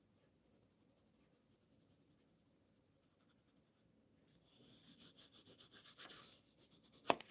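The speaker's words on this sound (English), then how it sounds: "let me get my pencil and draw this in a little bit darker." A pencil scratches across paper in a faint, rhythmic series of short strokes. The strokes grow louder and brighter in the second half, ending with a quick tap.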